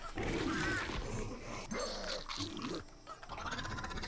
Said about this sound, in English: I like that escape sound he makes too. That rawr, growl.